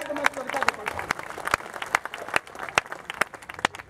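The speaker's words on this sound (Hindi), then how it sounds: "एक बार पूरा प्रांगण ताली बजाए तो मैं कविता को पढ़ता हूँ।" A packed hall at a Mumbai mushaira poetry recital claps together, sharp irregular hand claps close and loud, mixed with some crowd voices.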